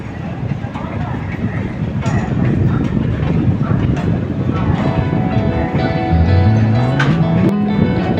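Howrah–Balurghat Express rumbles along in a loud, continuous clatter of wheels with wind buffeting, running parallel to the Belur Math local train, and a horn rises near the end.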